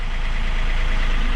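A boat engine idles in gear, holding against two anchors in an ex-cyclone storm at Shark Bay. A steady low rumble sits under broad, constant wind-and-water roar with no pauses.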